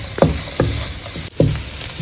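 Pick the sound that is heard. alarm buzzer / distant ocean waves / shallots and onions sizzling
shallots and onions sizzling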